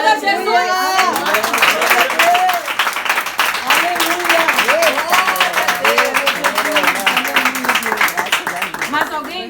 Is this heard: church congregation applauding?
yes